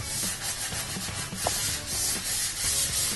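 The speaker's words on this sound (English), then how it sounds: "we're going to keep on going and sanding until we get all those marks out the way" Sandpaper rubs back and forth across wood in steady, rhythmic strokes, a close and continuous scratchy hiss with no talking.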